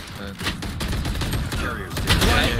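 Rapid gunfire bursts in the tactical shooter Valorant, played as Brimstone on the Split map in a ranked match, crackling loudly and densely throughout with a voice reacting partway.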